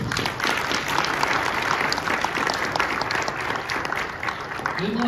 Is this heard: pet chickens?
no